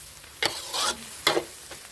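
Noodles are stir-fried with egg in a wok: a few quick scraping, sizzling strokes come in short bursts over a quiet background.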